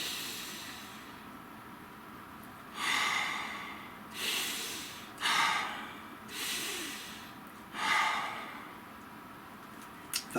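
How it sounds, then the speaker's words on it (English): Slow, deep breaths drawn in and let out several times in a quiet room, each breath a soft broad hiss rising and falling, close and fairly quiet, with no talking. "let's take a nice deep breath"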